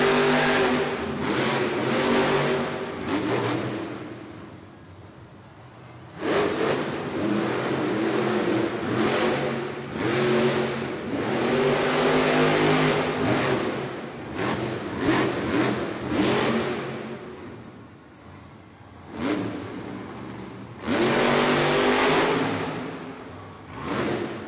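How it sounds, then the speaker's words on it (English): El Toro Loco, a monster truck, revving its engine during a freestyle at an indoor Monster Jam arena event in Columbus, Ohio: loud roaring bursts that rise and fall repeatedly, with short lulls between throttle blasts. "Fernando Martinez is able to refire and continue on with his freestyle"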